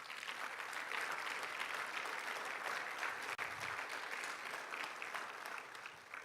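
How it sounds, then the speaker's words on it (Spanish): A church congregation applauding for several seconds, a dense, even wash of clapping at a fairly low level. "le da un aplauso al Señor"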